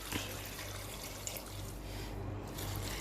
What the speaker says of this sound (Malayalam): ആവശ്യത്തിനുള്ള വെള്ളം ഒഴിച്ചു കൊടുക്കാം.